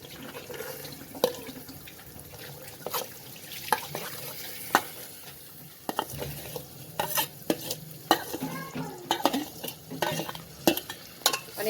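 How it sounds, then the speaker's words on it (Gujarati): Mixed vegetables sautéing in a pan for wheat-fada khichdi, with repeated scraping and clattering stirs over a low sizzle, close and irregular. "હવે 1 મિનિટ સુધી આપણે આ વેજીટેબલને આ રીતે કૂક કરી લઈશું સાંતળીને।"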